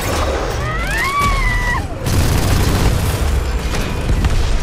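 An explosive blast in the Titanfall 2 shooter, a loud deep boom with rumbling tail after a whistling tonal sweep, sustained and forceful over the whole stretch.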